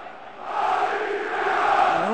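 Football stadium crowd at an Olympiakos versus Benfica match, a broad sustained roar of many voices swelling gradually, heard at a distance without close talk.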